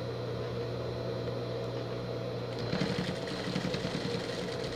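A sewing machine stitches the seam of a fabric pet carrier, starting with a low steady hum and then breaking into a fast, rhythmic mechanical whirr of stitching, close and alone.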